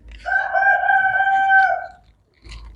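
A rooster crows once, loud and close, in a long harmonic call of about two seconds, followed by a brief softer sound at the end.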